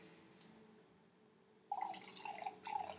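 A drink poured into a glass bottle, starting with quiet room tone and then bursting into a bright, gurgling splash that keeps trickling and ringing against the glass, close by.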